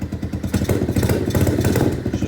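A cold Lifan KP Mini 150 motorcycle with an aftermarket exhaust gets a brief blip of the throttle up close, its rapid firing pulses rising in pitch and loudness for a moment.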